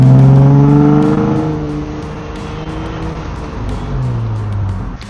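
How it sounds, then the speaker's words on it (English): A Jeep with an aftermarket exhaust cruises with its windows down, its engine droning loud and close with a falling pitch that settles into a steady hum, while wind and road noise rush in. "But I also did this exhaust. Hopefully maybe you can kind of hear it."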